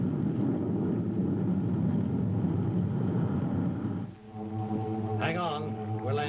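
A spaceship comes in to land in an old space-adventure drama, a heavy continuous engine rumble that drops out abruptly, after which a tonal whine and a voice continue over a quieter hum.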